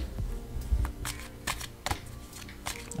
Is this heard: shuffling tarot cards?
yes